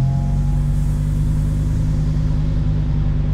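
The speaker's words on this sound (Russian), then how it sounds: "Поднялись обороты, изменился звук двигателя" Lamborghini Huracan Evo Spyder engine idling at raised revs in Corsa mode, a loud, steady low rumble with a deep harmonic hum, close and continuous with no talk over it.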